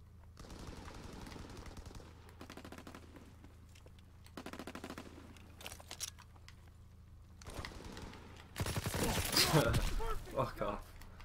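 Bursts of PPSh submachine gun fire in Call of Duty WW2, several short rattling volleys spaced apart, with a louder, denser burst near the end over a steady low background hum.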